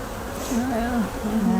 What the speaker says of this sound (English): So these are happy bees.